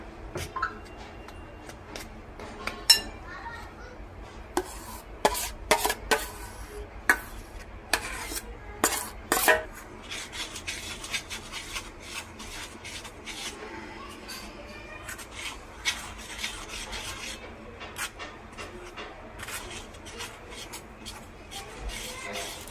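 Melted jaggery being stirred into plum cake batter in a bowl, with scattered clicks and scrapes of a utensil against the bowl. The scraping runs irregularly, busier in the first half, under faint background sound.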